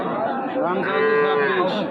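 A Sahiwal calf at the Raniganj cattle market gives one long, loud, drawn-out moo, close by and alone, with no talk over it.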